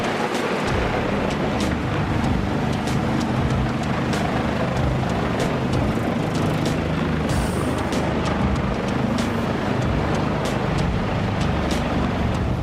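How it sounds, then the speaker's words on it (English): A Moorbank 30 RXL wood splitter working through dry oak in Sweden gives a loud, steady engine roar that runs without a break, with sharp cracks and knocks popping through it at intervals. "The Moorbank 30 RXL wood splitter is an essential tool in dry oak processing in Sweden"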